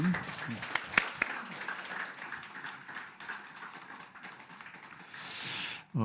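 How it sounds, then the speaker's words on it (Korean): A church congregation claps for the pastor during a Sunday worship service. The applause is soft and somewhat distant, a continuous patter with a few sharper claps, ending in a brief rise of noise. "우리 목사님을 위해서 박수 한번"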